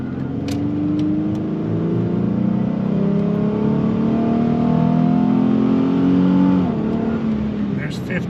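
A high-mileage 2006 Ford Ranger pickup accelerating out of a right turn, engine note climbing steadily through the revs, then a brief gear-change dip before pulling on, loud and close.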